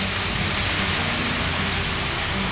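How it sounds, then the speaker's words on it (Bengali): Garlic paste frying in hot oil in a wok, a dense, loud, steady sizzle with no pauses, no voices. "প্রথমে রসুন বাটাটাকে 10 সেকেন্ডের মতন ভেজে নিতে হবে"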